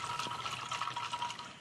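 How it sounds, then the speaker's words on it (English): A cocktail mixed with vermouth is poured into a glass, a steady close liquid trickle running unbroken for under two seconds with no talk over it. "You can pour around to sort of mix in the vermouth."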